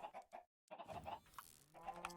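Chickens cluck in a Minecraft game world, several short repeated clucks at moderate level with brief gaps, no voices.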